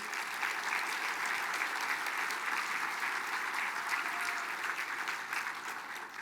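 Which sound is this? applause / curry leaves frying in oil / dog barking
applause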